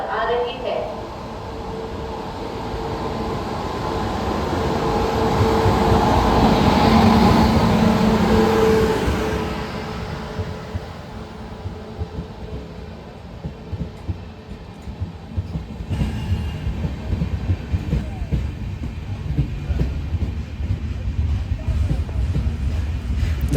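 A train at Dharmapuri railway station, a loud rumble that swells to a peak and fades into steady rolling clatter, with voices talking nearby throughout.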